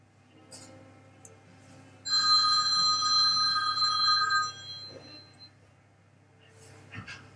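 A telephone bell rings loud and steady for about two and a half seconds, with a bright, sustained tone, then stops, leaving a quiet room with faint background noise and a few small knocks.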